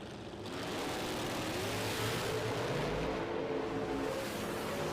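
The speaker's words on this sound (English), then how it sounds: "Troy Finner, bring that Camaro into the beam." A Camaro drag racing doorslammer in a PDRA American Doorslammer Challenge launching down the strip, its engine a loud, sustained roar that swells after a brief quieter start.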